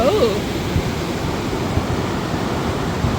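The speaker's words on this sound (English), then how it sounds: "It's an impressive river gorge, river canyon" A glacial river roars through a deep gorge, a loud, unbroken broadband rush of water with rumbling low end, constant throughout, with a brief faint voice at the very start.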